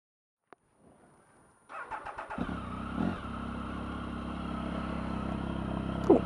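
A Triumph Tiger motorcycle fitted with a new SC Project exhaust cranks, fires up and settles into a loud, close, throaty idle with blips of revving.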